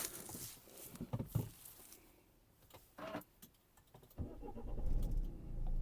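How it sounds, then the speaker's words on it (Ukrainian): A 2014 Renault Koleos 2.0 diesel engine cranks and catches, settling into a low rumble after a few clicks and thumps nearby. "автомобіль запустився без жодного зауваження"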